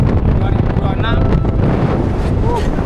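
Strong wind roars and buffets the microphone on the foggy summit trail of Mount Agung in Bali, a loud continuous rumble with gusting swells throughout, and faint voices mixed in beneath.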